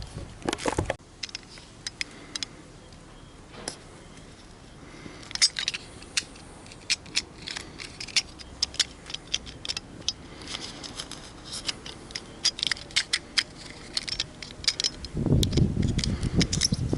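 An old tyre cut by hand to make a shoe sole, with scattered close snips and scraping of the blade through rubber toward the wire bead, quiet and irregular, and a louder rumble near the end.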